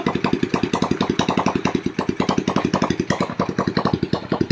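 A Motorstar motorcycle engine salvaged from a junkshop runs close by, a rapid, even chugging beat with sharp repeated exhaust pulses at a steady idle, loud and alone without talk.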